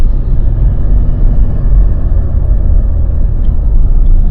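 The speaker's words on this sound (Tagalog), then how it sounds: "So yan, no, tahimik talaga yung makina eh." A Mitsubishi Montero engine idles just after an oil change, giving a steady low, smooth rumble close by with no ticking. It runs alone without any talk.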